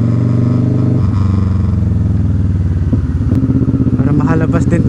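A motorcycle engine idles and revs steadily up close, loud and continuous with a slight rise in pitch near the end, while someone talks over it.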